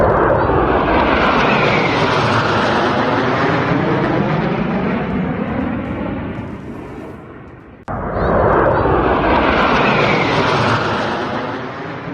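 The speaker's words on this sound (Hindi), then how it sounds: "वायुसेना ने 2 राफेल, 2 सुखोई, 2 MiG-29 और एक जैगुआर लड़ाकू विमान के साथ सिंदूर फॉर्मेशन बनाया।" Fighter jets flying in parade formation, Rafale, Sukhoi, MiG-29 and Jaguar, pass overhead with a loud roaring rush that swells and fades. A second roaring pass cuts in abruptly, loud and close.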